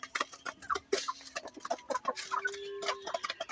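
Village-yard chickens cluck in quick, close, overlapping bursts, with one bird calling in a longer drawn note among the short clucks.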